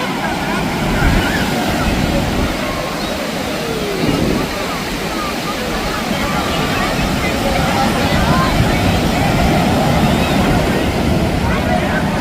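Heavy sea surf breaking on the crowded beach at Puri, a steady loud roar of waves with wind noise throughout, people's voices faintly mixed into the wash.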